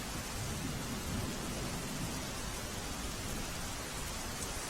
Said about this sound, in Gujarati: રંગીલા રાજકોટમાં ધોધમાર વરસાદ પડી રહ્યો છે